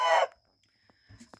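Pradu Hang Dam native chickens give a loud, close burst of crowing and clucking at the start, then a few faint, scattered clucks and small knocks follow in near quiet.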